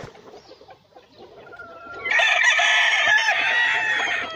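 Giro gamecocks and hens at a fighting-cock farm: soft clucking and scattered low calls, then one loud, close rooster crow ringing out over the second half.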